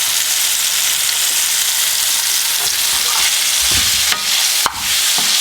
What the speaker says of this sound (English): now I'm going to put it in the fryer. And I've got some frying already.